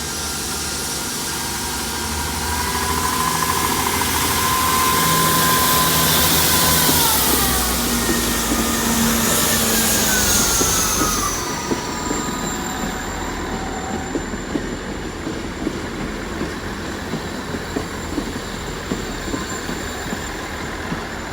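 A South Western Railway train at Exeter St David's heads toward a siding, its engine droning loudly and rising in pitch, then wheels clatter rhythmically over rail joints as it rolls past nearby.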